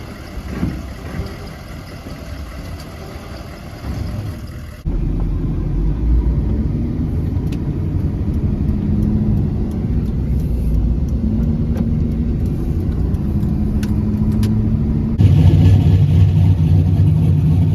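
A 1200+ horsepower Chevrolet S10 truck engine runs with a loud, steady low rumble that jumps up in level partway through, then swells again near the end, with no talk over it.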